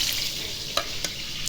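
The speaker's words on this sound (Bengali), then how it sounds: "তো এই যে দেখুন এখন ভেজে নেব।" Sea fish frying in a pan gives a steady, close hiss of oil with a few brief clicks and spatters breaking through, and no voices.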